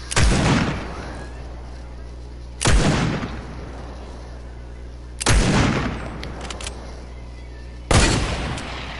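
Sniper rifle shots in a video game, four loud, sharp blasts spaced a few seconds apart, each with a booming tail, over a low steady hum.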